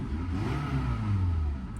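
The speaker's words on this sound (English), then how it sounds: "Give it another couple little revs here." A Toyota engine revs in short, healthy bursts, a mid-pitched rising and falling roar up close with a slight clattery edge, no talking over it.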